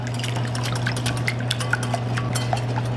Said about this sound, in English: Now for the wet ingredients, I've got a couple of eggs. Whisk them up.